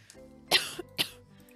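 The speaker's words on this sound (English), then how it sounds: "I'm like really trying not to cough right now, but I feel like I gotta cough so bad" Two sharp, loud coughs about half a second apart, close to the listener, with a faint throat sound earlier and quiet background in between.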